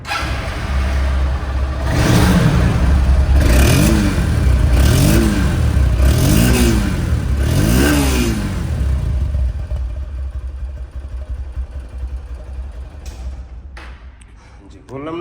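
A second-hand Honda X-Blade motorcycle engine revs up several times in a row, rising and falling loudly up close, then settles to a steady idle.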